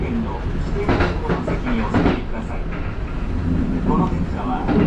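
A Kintetsu Urban Liner Plus limited express train runs along the line, giving a loud, continuous rumble with rhythmic clicking over the rails, heard from inside while an onboard announcement voice talks over it.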